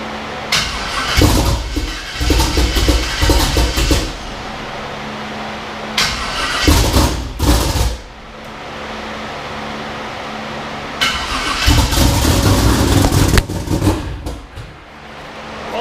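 A twin-turbo LS engine being started for the first time, cranking and firing in three loud, close bursts separated by quieter gaps, with no talking.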